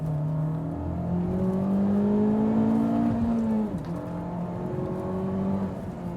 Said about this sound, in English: the exhaust has this meaty thrum